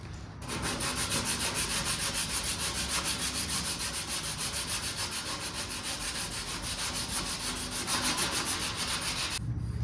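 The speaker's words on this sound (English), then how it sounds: "Don't you just love sanding?" Steady rhythmic sanding close by on the body of a 1978 Ford short bed conversion, a rapid scratchy back-and-forth rasp that runs without pause for several seconds before stopping abruptly.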